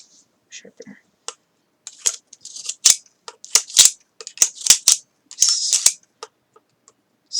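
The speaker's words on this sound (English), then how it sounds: "I'm gonna sharpen these real quick." Old, worn-out scissors are worked through a sharpener in a string of short, sharp scraping strokes, close up and irregular, with brief pauses between bursts.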